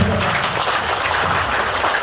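Audience applause at an Indonesian seminar on debt-free, interest-free finance, a steady dense wash of clapping filling the whole moment at moderate loudness with no voices on top.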